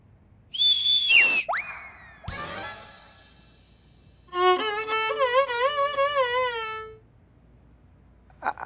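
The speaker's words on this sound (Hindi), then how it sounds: "तो हम ही सीटी मारे हैं आपके शुरू के लिए" A whistle blown on a comedy TV set, with several sharp shrill blasts and a sliding pitch early on, then a longer warbling whistle run of repeated rising and falling notes, fairly loud with no talk.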